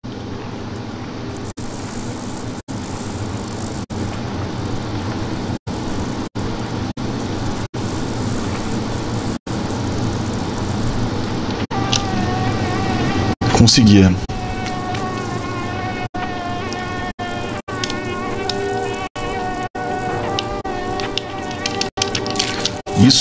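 Fly buzzing in the video game Limbo, a steady insect drone running throughout over game music and ambience, with a brief louder burst midway and a short spoken word.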